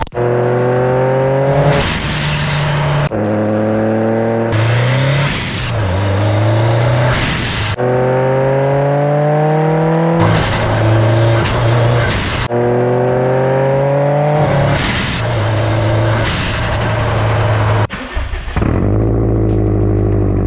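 A turbocharged Subaru STI engine with a header revs repeatedly, climbing high then dropping back in rhythmic bursts, loud and close with a raspy exhaust note, ending in a rumbling idle.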